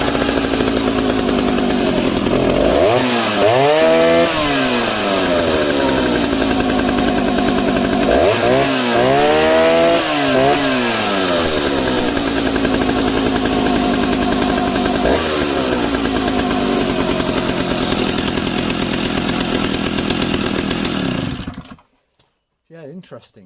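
A vintage late-1960s West German Stihl S10 chainsaw, started with a bit of choke, runs loud and close with a steady engine drone, revving up and down twice, then a smaller blip before cutting off abruptly.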